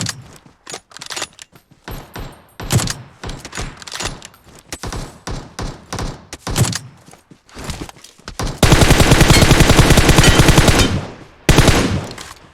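Rapid automatic gunfire in PUBG Mobile, loose bursts and single shots early on, then a long, loud sustained volley near the end with a short break before a final burst.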